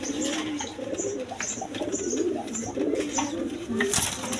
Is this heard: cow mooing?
no